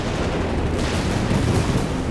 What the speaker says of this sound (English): here comes the rocket strafe